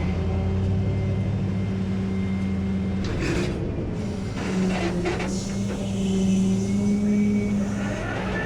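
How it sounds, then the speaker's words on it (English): A Chevy truck's engine idles and hums steadily as the vehicle is eased backward at low speed, a close, continuous drone with slight swells and brief rattles, no talking. "Let me walk the truck back a little bit."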